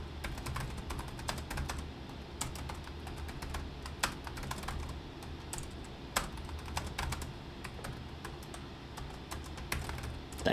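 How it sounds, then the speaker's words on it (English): Steady typing on a computer keyboard, entering personalization text: a continuous run of close, crisp key clicks at an irregular rhythm, with no talking. "for the personalization, I'm gonna type in"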